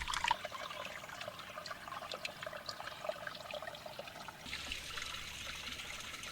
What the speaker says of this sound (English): the dark waters of the Sopchoppy River are gradually diluted by the small springs that flow from the limestone walls